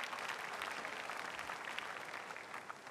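A church congregation claps during a worship service, a sustained patter of many hands that stays fairly soft and slowly tapers.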